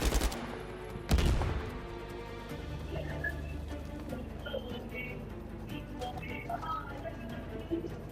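Gunfire in the PS5 game Uncharted: Legacy of Thieves: a loud burst of shots opens, a second heavy blast follows about a second later, then scattered distant gunfire and battle ambience continue at a lower level.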